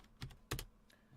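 Several quick keystrokes on a computer keyboard while code is typed, a short burst of clicks followed by a louder cluster of taps, close and dry with no talk.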